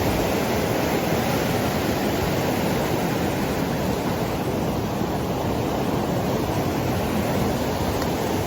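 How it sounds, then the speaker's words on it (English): A fast-flowing river rushes in a steady, loud broadband roar that never lets up, heard up close with no voices over it. "It's still stupidly fast flowing, this river."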